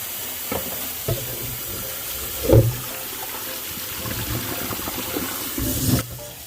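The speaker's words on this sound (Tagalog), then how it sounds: "Ito ang unang kulo ng ating baka. Ito po ay itatapon natin." Boiling water from a first parboil of beef neck bones for sinigang being poured out, a steady near splashing rush with a louder gush midway and another surge near the end, no voices.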